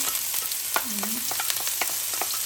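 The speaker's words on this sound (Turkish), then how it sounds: "Önce soğanı kavuralım." Onions fry and sizzle in a pan, a close, steady crackling hiss punctuated by quick scrapes and taps of a spoon as they are stirred.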